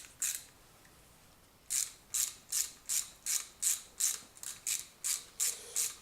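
A socket wrench ratchets a bolt tight: one quick click, a pause, then about ten evenly spaced sharp ratcheting strokes, close and crisp in a quiet room.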